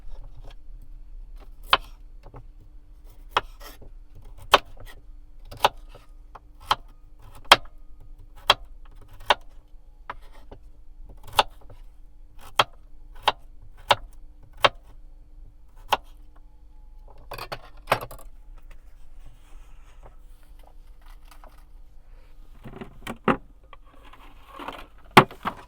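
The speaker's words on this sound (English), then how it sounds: "Let me cut up a radish." A knife chops a radish on a board in a van kitchen, giving a steady series of sharp, evenly spaced clicks close by, followed by a few softer rustles and thuds near the end.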